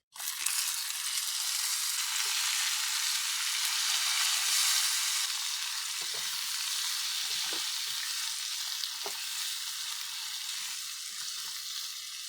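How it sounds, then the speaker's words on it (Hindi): Chicken pieces frying with golden-browned onions in a karahi give off a steady, loud hiss of sizzling oil, with occasional soft clicks and scrapes of stirring. "चिकन को हम तकरीबन 5 से 7 मिनट फ्राई कर लेंगे।"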